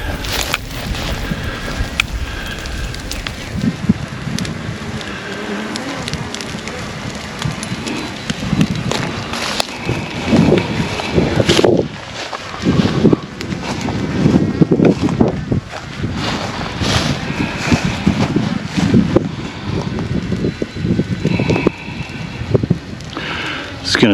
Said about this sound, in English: the wind is gonna take that fire and rip it fast through this prairie